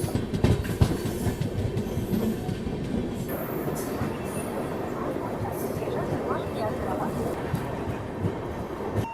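The Tamil Nadu Express rolls into Balharshah railway station with continuous clickety-clack of wheels and rumbling carriages, while someone talks over the train noise.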